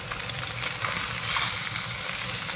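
Fish fillets dry-fry in a pan without oil, giving a steady, dense crackling sizzle close up that runs unbroken throughout with no voices.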